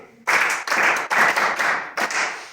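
A secondary school physics class claps for a student in bursts: about five short rounds of brisk hand clapping from a group of pupils, each round stopping abruptly before the next, close and loud in a classroom.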